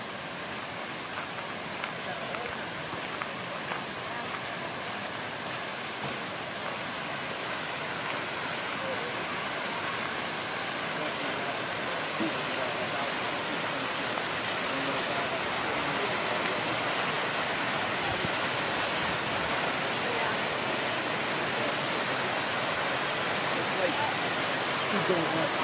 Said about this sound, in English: Buttermilk Falls.